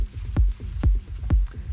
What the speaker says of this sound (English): this is some recording of me walking on the forest.